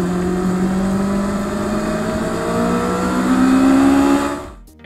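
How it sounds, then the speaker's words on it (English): Motorbike engine running steadily, captured by a Firefly 6s action camera's built-in mic, a close continuous drone with gently shifting pitch that swells slightly before cutting off near the end; no talking. "Here's an example of what it sounds like when the bike's running."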